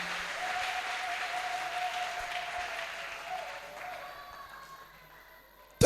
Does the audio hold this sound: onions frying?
no